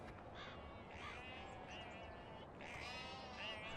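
Sheep in a farming game bleat in a faint, overlapping chorus of wavering calls, several animals at a distance over a steady rumbling background, with a voice talking softly.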